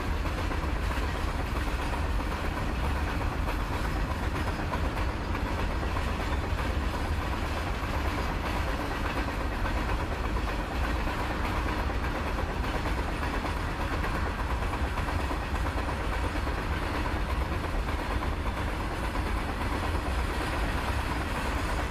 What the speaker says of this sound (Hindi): ये जो सबसे लंबी ट्रेन है, या एक लंबी ट्रेन है भारत में फ्रीट